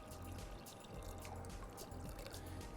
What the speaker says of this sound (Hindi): यहाँ इसमें हम पानी डालते हैं,